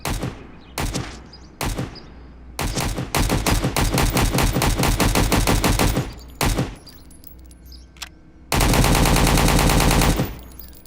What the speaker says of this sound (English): The AI is totally shooting through walls.